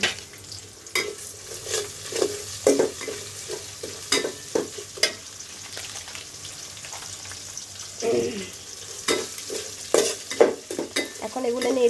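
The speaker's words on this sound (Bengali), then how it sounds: "এখন এগুলো নেড়ে চেড়ে নিব" Whole panch phoron spices fry and crackle in hot oil in a pan for a Bengali mango pickle, with a spoon stirring in repeated scraping strokes over a steady sizzle.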